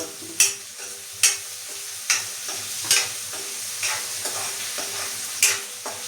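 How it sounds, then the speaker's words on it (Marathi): Potatoes sauté in a hot pan, sizzling steadily while a spatula scrapes and stirs in sharp strokes about once every second, with nobody speaking. "बटाटे परतून."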